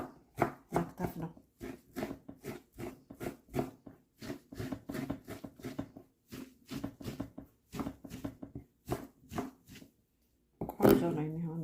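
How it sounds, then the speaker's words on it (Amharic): A knife chops collard greens (gomen) on a board for Ethiopian gomen kitfo: quick, steady, close-up strokes in long runs, pausing briefly near the end before a few louder cuts. "መክተፍ ነው።"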